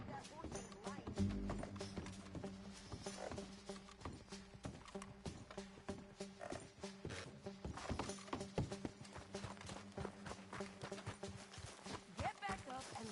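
Horse hooves clopping steadily in Red Dead Redemption 2, a rhythmic run of mid-level hoofbeats through much of the stretch, mixed with game sounds and voices talking over them.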